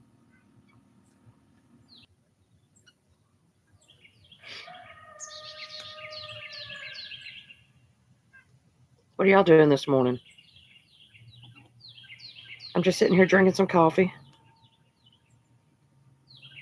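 Birds chirp and sing in a front yard in a hollow on a quiet morning, with tonal whistles and trills, while a person nearby talks in two loud bursts over the birdsong.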